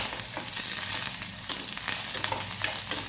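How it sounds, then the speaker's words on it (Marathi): Onion and curry leaves sautéing in oil in a pan, a dense, even crackling sizzle with faint stirring scrapes throughout, close and steady without any speech. "कांद्याचा फक्त थोडंसं असं परतून घ्यायचं आहे कढीपत्ता घातलाय मी"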